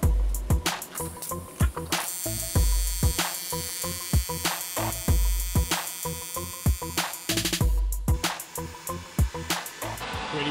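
An ESAB Rebel EMP 205ic runs AC TIG with 3/32 tungsten and filler rod on 1/8 or 3/16 inch plate, giving a loud, steady buzzing arc hum broken by rhythmic crackles and pulses, close up with no talking.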